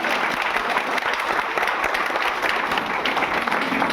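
Loud, sustained applause from a crowd at a community meeting in a Ranchi hotel hall, dense steady clapping filling the room with no break.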